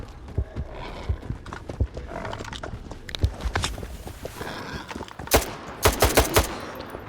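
Boar enemies and gunfire in the shooter S.T.A.L.K.E.R. 2: scattered thumps and hoof-like clatter, then a burst of loud sharp gunshots toward the end.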